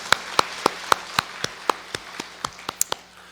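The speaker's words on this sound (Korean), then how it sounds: "우리 하나님께 영광의 박수를 한번 올려드리기를 원합니다" A church congregation claps in a steady rhythmic beat, roughly a dozen crisp claps evenly spaced and fairly faint, with no voices over them.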